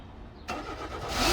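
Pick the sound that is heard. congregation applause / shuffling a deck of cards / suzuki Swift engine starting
suzuki Swift engine starting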